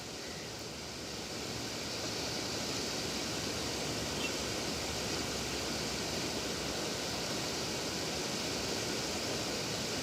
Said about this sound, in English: white noise-based material